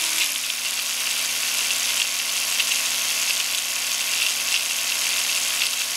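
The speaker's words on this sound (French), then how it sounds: "la brosse va s'arrêter pour vous signaler qu'on passe au cadran" An Oral-B electric toothbrush runs in normal mode with a steady, close, loud buzzing hum that holds constant throughout.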